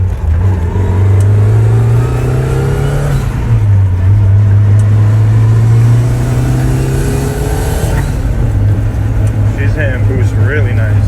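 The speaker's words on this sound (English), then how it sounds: "Hitting boost really nice" Turbocharged Mazda Eunos Miata engine pulling hard under boost, a loud droning in-car engine note rising and falling through gear changes, with a voice talking over it.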